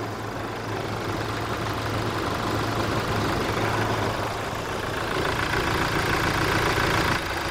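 Engine of an updated Toyota Prado, 210 or 177 horsepower, idling steadily with a low, even hum and a constant tone throughout, close and unbroken, with no talking.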